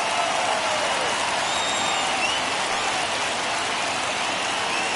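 A baseball crowd in MLB The Show 21 rises and roars for a 3-2 count, a dense, continuous wash of cheering and noise held at a steady loud level, with no clear voices.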